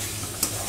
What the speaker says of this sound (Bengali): এখন আমি আলুটা দিয়ে আবার একটু কষিয়ে নেব